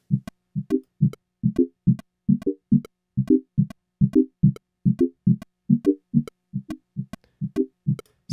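Reggae organ bubble synth loop: short, clipped keyboard chords bounce in a steady syncopated rhythm, pairs of stabs repeating evenly throughout, clean and upfront with no voices.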